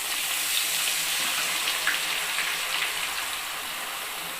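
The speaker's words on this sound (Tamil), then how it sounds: "பியூர் எண்ணெயாக இருந்தால் இப்படி தான் பொங்கி வரும், அப்புறம் சரியாக போயிடும்." Herb paste dropped into hot pure coconut oil, giving a steady, even sizzle and bubbling hiss that stays at the same level throughout with no talking.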